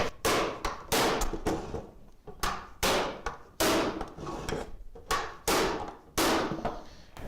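A cooper drives metal hoops onto a wooden barrel with a hammer, landing a steady run of loud, close, ringing blows about every half second, each one sharp and resonant.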